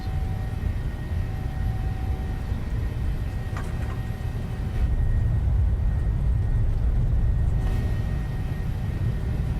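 A PMDG 737-700 airliner on its takeoff roll in Microsoft Flight Simulator, a loud, steady low rumble of engines and runway noise that swells slightly midway, with no talk over it.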